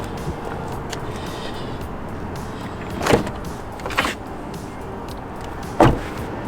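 A Tesla Model 3 Highland (2024 US version) door swinging shut, a solid thump near the three-second mark followed by further lighter knocks and a second firm closing thud, over a quiet outdoor background.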